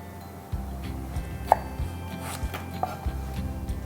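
A knife chops vegetables on a cutting board in a kitchen, with several separate close taps in an uneven rhythm over a quiet room hum.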